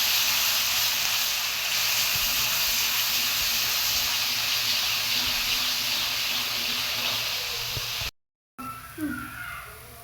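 Onion, coconut and garlic fry in hot oil with a continuous, even hiss that stays steady for about eight seconds, drops out briefly, then returns with a few soft clinks.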